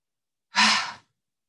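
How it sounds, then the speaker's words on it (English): A single exaggerated exhale during yoga breathing, a close, breathy sigh pushed out forcefully for about half a second, heard alone in silence. "Breathe with an exaggerated exhale as if you're trying to push the exhale out."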